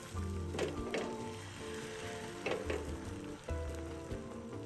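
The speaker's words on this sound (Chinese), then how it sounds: "倒入蛋液，摊成薄蛋皮。" Beaten egg for a tuna egg roll cooking in a lightly oiled pan over medium heat, a steady close sizzle with a few scraping clinks of utensil against metal.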